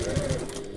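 A sewing machine runs a brief stitching burst along a handbag seam, the quiet motor whirring close up with a faint rhythmic needle pulse.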